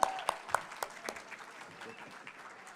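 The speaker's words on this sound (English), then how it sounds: "Big round of applause for Imam Abdullah Smith." Faint applause from an expo audience welcoming an imam to a panel talk, a few sharp claps at the start fading into a soft, distant patter.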